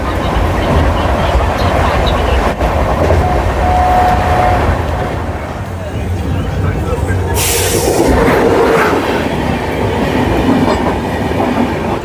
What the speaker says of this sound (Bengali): এখন দেখা যাক কটায় ট্রেন ঢোকে।